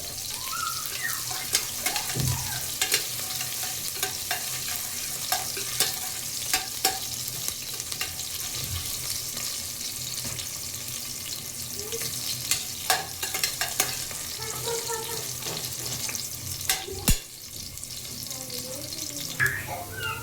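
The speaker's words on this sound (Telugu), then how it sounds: "చిన్నుల్లిపాయ గోల్డెన్ బ్రౌన్ కలర్లోకి వచ్చేదాకా వేపుకోవాలి" Small onions frying in a pan until golden brown for a donkakai (ivy gourd) fry, a steady broad sizzle held for the whole stretch, with occasional scrape and stir clicks and no talk.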